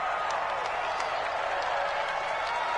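Home crowd noise from a football video game fills the space as a steady, loud, dense roar of cheering, with a commentator's voice running over it.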